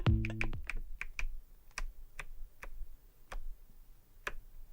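Pages turned very rapidly to mimic a safe dial: a quick flurry of papery flicks at the start, then evenly spaced sharp ticks clicking one after another, close and fairly quiet, no talking.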